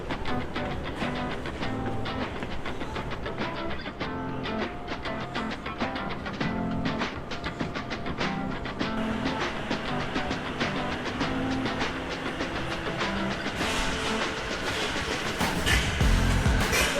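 An SNCF regional train leaves the platform at Nice bound for Cannes and runs along the rails, giving a steady, dense rumble and clatter that carries through the whole stretch without a break.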